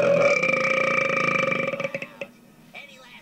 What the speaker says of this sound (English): I got jump scared by a burp